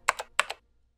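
Two quick pairs of keystrokes clack on a computer keyboard, close and crisp, then silence.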